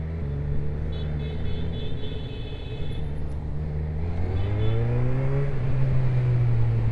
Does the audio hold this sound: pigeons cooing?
no